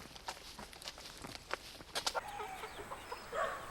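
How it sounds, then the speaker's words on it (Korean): About two hundred free-range chickens roam a wooded hillside farm in Yeongdong, Korea, clucking in scattered short bursts. Light footsteps and rustling sit among the clucks, moderately distant and without talk. "야산에 닭 200마리를 풀어놓고 키우는 이곳은"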